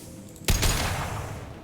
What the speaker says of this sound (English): Because I love this gun and the sound of it, I'm just gonna burn these last 2 rounds.